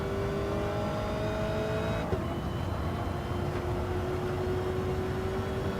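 Race cars speed along in a racing video game, a steady loud engine drone with a high whining tone that holds and shifts slightly in pitch, continuous throughout with no speech.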